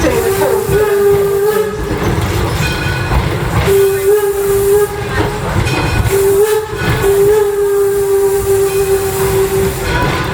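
A coal-fired steam locomotive on the Greenfield Village Railroad runs steadily and loudly, its steam whistle sounding in three long, steady blasts over continuous chuffing and rumbling mechanical noise.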